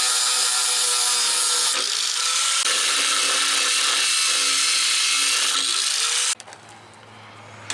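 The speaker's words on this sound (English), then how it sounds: "Got my 6-inch cutting wheel on here." A 6-inch cutting wheel grinds through a steel hitch T-nut, giving a loud, steady abrasive whine that runs for about six seconds before the tool cuts out and the sound drops to a low hum.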